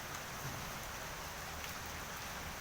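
Rain falls steadily onto a wet road on a cloudy winter day, an even, close hiss of drops with no breaks and no voices.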